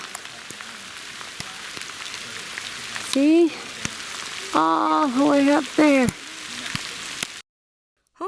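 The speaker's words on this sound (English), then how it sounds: "Oh, we're gonna get rain on the camera." Raindrops tap sharply on a camera in a redwood forest, scattered clicks over a soft background, while someone speaks in short bursts close by.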